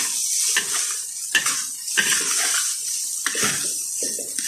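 Fried rice with sausage and chopped spring onions stirred in a hot pan, with repeated scraping strokes of a utensil over a steady sizzle, close and clear with no talk.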